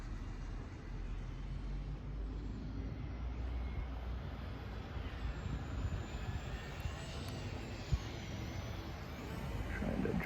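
An RC foam plane's electric motor runs at about half throttle in a steady whir, with a low rumble underneath and a rising, falling tone as it flies past.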